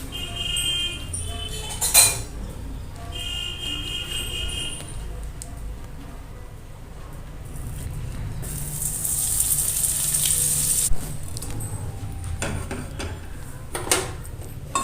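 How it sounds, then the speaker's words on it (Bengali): Butter melts in a hot kadai with a gentle sizzle that swells into a stronger, hissing fry partway through, while occasional clinks and utensil knocks sound nearby. "যতক্ষণ বাটারটা গলছে"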